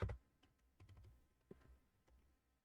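Quiet, sparse keystrokes on a computer keyboard while writing R code, a few soft scattered clicks with pauses between them and no talk.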